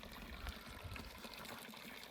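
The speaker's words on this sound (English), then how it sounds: "hose that's flowing water in there, that's gravity fed from up where our spring is" Spring water runs from a gravity-fed hose into a small pond, a faint, steady trickle and splash with no voices.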